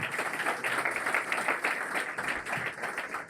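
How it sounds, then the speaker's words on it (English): An audience at a conservative movement gathering with Vice President Mike Pence gives a round of applause for Don Devine, a steady, even wash of many hands clapping across the room at moderate volume. "Don Devine, you can give him a round of applause too"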